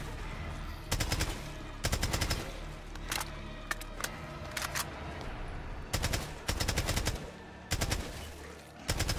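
Bursts of AK rifle fire in a first-person shooter game, several sharp rapid volleys with short pauses between them, loud and close against a steady game ambience.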